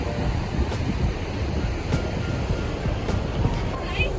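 Meltwater flows out from under a layer of dirty snow in a mountain valley, a steady broadband rush of water mixed with wind noise on the microphone, continuous and fairly loud.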